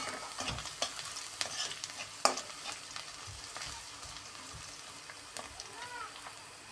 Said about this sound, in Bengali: সেটা দিয়ে নাড়াচাড়া করতেছি যতক্ষণ পর্যন্ত বাদামি কালার না হবে